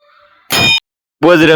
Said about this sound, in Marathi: बलीचा घंटा वाजवून बजरंगबलीचं दर्शन घेतलं